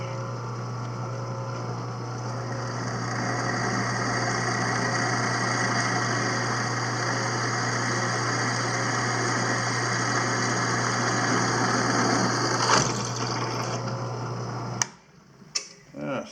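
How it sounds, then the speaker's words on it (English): A power drill bores a pilot hole into a sprocket for the power winch on a TimberKing 1400 bandsaw mill, giving a steady, close motor drone with a low hum for about fifteen seconds before it stops abruptly. "So I'm going to drill the pilot first."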